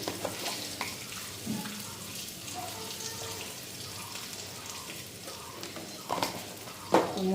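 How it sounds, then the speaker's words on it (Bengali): Spices with turmeric and salt fry in a pan with a soft, steady sizzle, and a spoon stirs and scrapes now and then, with a couple of sharper clatters near the end. "মশলাটা এখন ভালো করে ভেজে নিই।"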